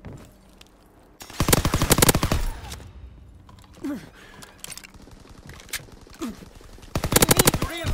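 Automatic and rifle fire in the World War II shooter Call of Duty: WW2, with loud sustained bursts at the start and end and scattered shots and effects between.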